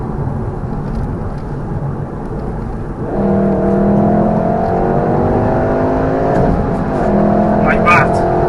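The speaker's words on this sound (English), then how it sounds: "Next thing you know, you're hitting red line and need change gear." A VW Golf R hot hatch engine climbs in pitch as it accelerates toward the red line, with rising harmonic tones over steady road and wind noise, loud and close, and a brief dip near the end as revs shift.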